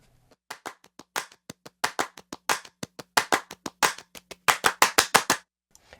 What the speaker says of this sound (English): I took a clap loop from Sour Candy and just stretched it to time and then faded it in